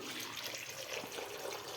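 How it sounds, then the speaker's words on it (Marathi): Water is poured into a vessel of washed mixed lentils, making a soft, steady, close splashing rush with no pauses. "आता याच्यामध्ये आपल्याला घालायचं आहे पाणी"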